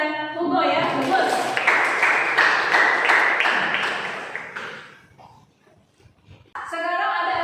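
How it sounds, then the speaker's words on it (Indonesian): Classroom applause for students Rika and Hugo: a dense burst of clapping from a group of students, loud and sustained for about four seconds before fading, with voices chattering underneath. "tepuk tangan untuk Rika dan Hugo ya, bagus"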